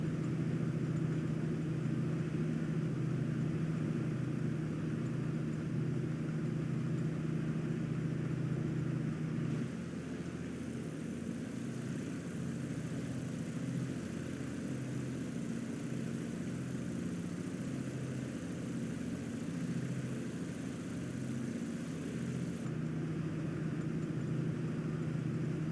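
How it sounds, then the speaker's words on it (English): Steady drone of a light aircraft engine in cruise flight over the Pacific Northwest, a constant close cabin hum whose tone drops slightly partway through as power is reduced. "So we're reaching our cruising altitude, so we'll bring our climb flaps up and we can reduce our engine power accordingly to the right"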